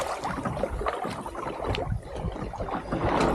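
A 14ft sailing dinghy moving under sail in light wind, with continuous water swishing and rushing along the hull close by and steady wind buffeting, no voices.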